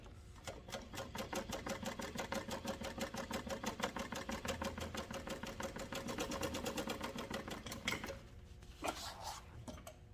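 A sewing machine runs in one steady burst for about eight seconds as it stitches down the folded edge of a waterproof canvas tote, a close, rapid mechanical chatter. It stops abruptly and a few light clicks and handling sounds follow.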